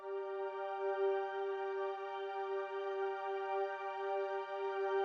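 String synth pad built from detuned square-wave oscillators with pulse width modulation in Ableton Live's Drift synthesizer, a steady sustained chord of bright, buzzy harmonics held evenly at moderate level for several seconds with no other sounds.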